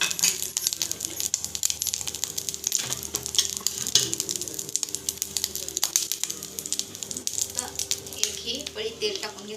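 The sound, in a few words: ladle of oil poured into pan, sizzling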